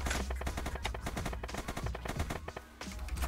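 Rapid automatic gunfire in a video game, with dense bursts of shots firing almost continuously, loud and close, for the whole stretch.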